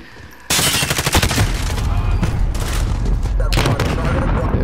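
Modern Warfare firefight: after a quiet half-second, loud sustained automatic gunfire erupts close by, a dense rattling barrage with booming reports that carries on to the end.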